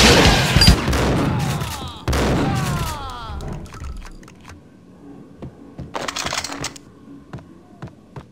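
Shotgun blasts from the Max Payne video game boom twice in quick succession, loud and close, each trailing a metallic echo. Quieter clattering and a softer later burst follow.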